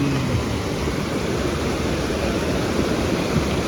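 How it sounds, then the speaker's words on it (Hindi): Very heavy rain falling at night near Kullu on the Manali–Chandigarh highway, a loud, steady, dense roar of downpour with no pauses and no voices. "भाई बहुत तेज बारिश चल रही है।"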